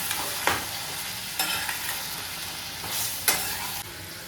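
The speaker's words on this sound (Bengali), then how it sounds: "এবারে খুব ভালো করে ভেজে নেব চিকেনটা।" Chicken pieces dusted with salt and turmeric fry in a pan with a steady sizzle, broken by several sharp scrapes and stirs of a spatula spaced out across the stretch.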